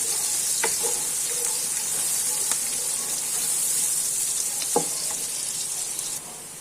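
Carrots stir-frying in a pan for chicken fried rice give off a loud, continuous hiss of hot oil, with a few faint spoon taps against the pan and no voices.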